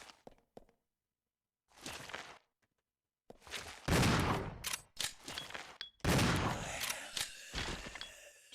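Shotgun blasts in Resident Evil 0 ring out as several loud, separate bursts. They follow a few quiet clicks and near-silent gaps in the lab setting.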